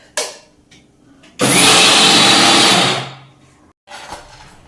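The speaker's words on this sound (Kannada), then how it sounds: "ಕಾಯಿ ಮೆಣಸು ಹಾಕಿ ಒಂದು ಗಿರ್ ಮಾಡಿದರೆ ಸಾಕು" A mixer grinder loaded with coconut and chillies whirs loud and close for about a second and a half, then winds down, with brief clunks before and after.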